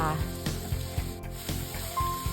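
Carrot, onion and broccoli stirred in a hot pan for a Thai-style stir-fried egg noodle dish, a soft continuous sizzle broken by light scraping knocks of the spatula at an uneven rhythm.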